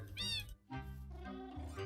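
Cat meowing in the video game Minecraft, a few short meows in quick succession at close range, with a low rumble of game or room sound beneath.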